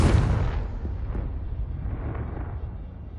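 A Confringo blasting spell explodes in Hogwarts Legacy with a loud, deep boom that hits at once and then rumbles away over a few seconds, with no voices over it.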